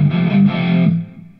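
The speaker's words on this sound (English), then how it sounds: "That grindiness is the distortion" An electric violin played through a distortion effect pedal gives a gritty, buzzing sustained note with a brief pitch shift before it cuts off and fades.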